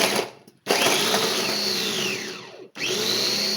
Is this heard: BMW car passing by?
no